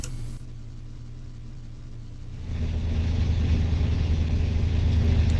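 A car engine in a Car Mechanic 2021 drag race rumbles low and steady, then swells louder and fuller partway through as it pulls away, continuing as a dense roar.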